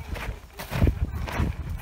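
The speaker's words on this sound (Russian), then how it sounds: "здесь вот, смотрите, лошади, пони" Horses and ponies walk on a hilltop holiday route, their hooves giving a few soft, uneven clops close by, mixed with outdoor background noise.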